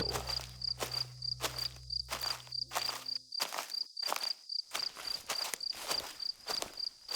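Footsteps walk at an even pace along a quiet night path as a ghost-story sound effect, each step crisp and close, with a steady cricket drone behind them and no voices.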